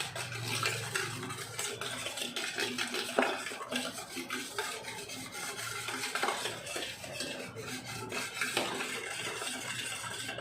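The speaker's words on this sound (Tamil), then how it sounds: "கட்டி இல்லாமல் நல்லா மிக்ஸ் பண்ணிக்கலாம்." A spoon stirs sugar, salt and oil together in a bowl, with steady scraping and clinking of metal against the bowl over about ten seconds, close up and with no talking.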